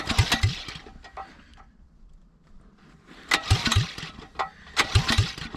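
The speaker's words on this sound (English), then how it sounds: "Well, fire it up. Turn the switch on, turn the choke on." A Honda GX270 9HP engine with an open pipe, swapped into an old Suzuki LT185 frame, is cranked and tried with the choke on: several loud, sputtering bursts separated by quieter gaps, close by with no talking.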